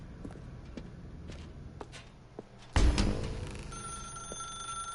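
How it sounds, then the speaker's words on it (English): A telephone in the video game The Stanley Parable starts ringing partway through after soft scattered footsteps, with a sudden bright tone and sustained ringing to the end, and no speech. "Now pick up the phone."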